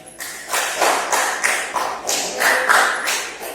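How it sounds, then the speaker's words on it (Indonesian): A classroom of students claps together in a rhythmic pattern of bursts, several hands striking in unison, close and fairly loud, with no talking. "Silakan tepukkan buat kalian."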